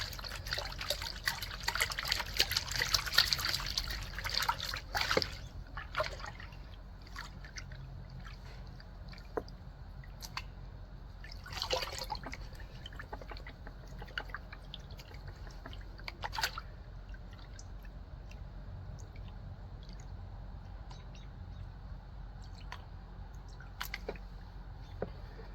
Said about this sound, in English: I like using the bigger pan to wash it back